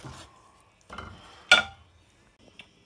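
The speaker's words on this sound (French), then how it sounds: "Avec une spatule, on va découper les bouts rebelles qui n'ont pas voulu se hacher au robot" Spatula chopping tomatoes in a pan: a few separate scraping, clinking strokes of metal against the pan with a soft sizzle between them, the third stroke the sharpest and loudest, with no talking.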